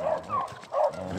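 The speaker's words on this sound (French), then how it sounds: "c'est un petit chien" A small dog gives two short yappy barks about a second apart, close and fairly quiet, with someone talking softly around them.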